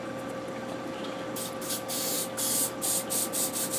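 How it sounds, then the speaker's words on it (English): Spray adhesive hisses in short repeated bursts onto fabric being bonded to leather for a fur trapper hat, close and fairly loud over a steady background hum. "use some of this spray adhesive, and it will hopefully it's going to bond the fabric to the leather"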